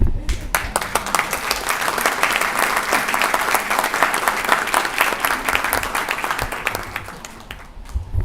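An audience at a university general assembly breaks into dense, sustained applause lasting several seconds before it tapers off near the end.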